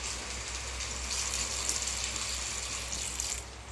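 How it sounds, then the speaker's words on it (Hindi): A steady stream of water pours and gushes continuously into a handi cooking pot of chicken, fairly quiet and close, tapering off at the end. "तब हम इसमें थोड़ा पानी डाल"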